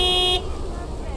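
A truck horn in the video game Lake gives a short, loud, steady honk that cuts off after a fraction of a second, leaving low in-game ambience.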